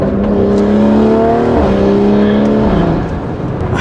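A BMW M340i fitted with a big turbo accelerates hard, its loud engine note climbing steadily and dropping sharply at quick gear shifts, heard from inside the car.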